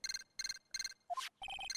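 A transceiver rings in the Ace Attorney video game, an electronic ringtone of rapid trilled beeps in repeated bursts, broken by a short rising chirp before the beeping resumes.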